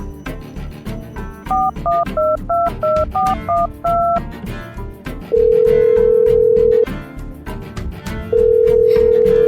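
A phone call is dialed: a quick run of about a dozen keypad beeps in two pitches, followed by two long, loud ringback tones with a pause between.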